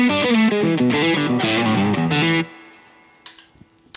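Electric guitar through a Duelist overdrive and a Broadcast pedal, playing a loud, driven, rhythmic chord figure that stops abruptly, followed by a ringing decay and a couple of faint string and pick noises.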